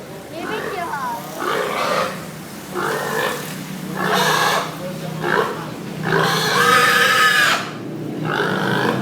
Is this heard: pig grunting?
yes